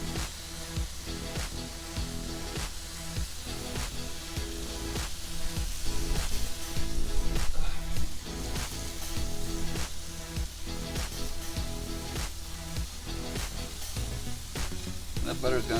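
Steaks sizzle steadily on a grill as butter melts over them, making a loud, continuous frying hiss broken by small pops and spits.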